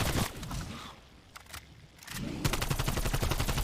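Rapid gunfire from a pack-a-punched weapon in Call of Duty Zombies, loud bursts at the start and a dense sustained stream after a brief quieter gap, with game sound effects and no talk.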